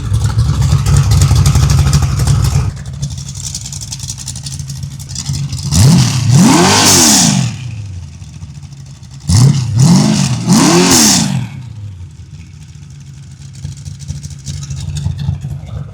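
A 383 stroker engine in a 1967 Chevy II Nova, loud and close, idling with a lumpy rumble and then revving sharply in two pairs of rising-and-falling blips.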